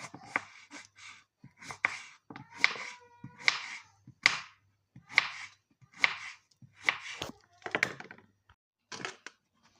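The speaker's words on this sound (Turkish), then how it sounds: "Kabaklarımızı doğramaya devam ediyoruz." A knife chops through zucchini on a cutting board, sharp thuds repeating in an uneven rhythm with short pauses, close and clear.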